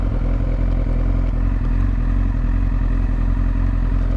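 A 2003 Yamaha R6 sport motorcycle engine runs steadily close by, a loud even mechanical drone with light clatter and no revving.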